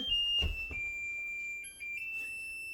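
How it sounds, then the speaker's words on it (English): Kitchen oven timer going off while rice pudding bakes, a high steady electronic beep tone held continuously, with a few soft clatters early and a brief dip near the end. "the timer is just about ready to go off. Oh, there it is."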